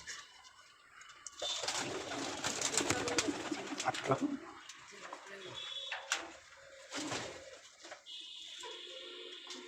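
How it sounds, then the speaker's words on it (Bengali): Pigeons at a pigeon seller's coop, with soft cooing and rustling mixed into continuous nearby talk and handling noise, some busier stretches and short pauses. "এটা একটা কবুতর"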